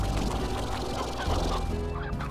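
Chickens cluck and squawk on a ranch in the video game Slime Rancher, a busy overlapping chorus of short fowl calls over a dense background of game music and noise.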